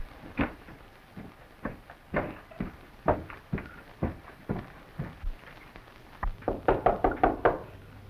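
Knocking on a wooden door in a 1930s western, a slow series of single dull raps at steady intervals, then a faster cluster of louder knocks near the end, with no talking.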